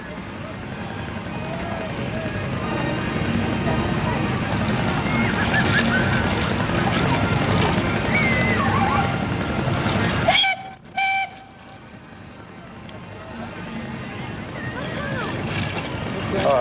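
A steam ploughing engine at a steam show chugs and rumbles heavily with clanking machinery and brief wheel spin, then a brief whistle-like tone sounds before the noise drops and builds again; a voice speaks over it.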